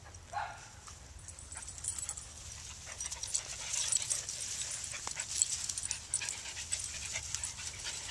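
A dog makes low grumbling noises mixed with panting and soft whimpers, close by, alongside light scuffling.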